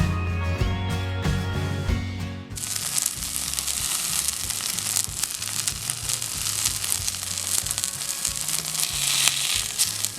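Masala dosa appe batter fries in a pan, a loud continuous sizzle with crackling pops that bursts in after a quieter start and carries on steadily.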